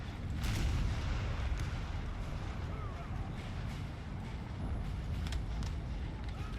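Artillery firing during the Siege of Ticonderoga in Napoleon: Total War, a steady din of distant cannon booms and battlefield rumble with a few sharper reports rising out of the continuous low roar.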